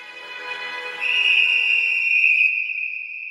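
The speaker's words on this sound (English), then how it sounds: "You hear that? There's the whistle!" A sharp, steady high-pitched whistle blown in an anime to declare a victor, held as one continuous shrill tone for a few seconds and rising in loudness partway through.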